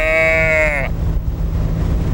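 A person mimics a cow's moo with one drawn-out nasal voice lasting under a second, then a quiet outdoor murmur follows.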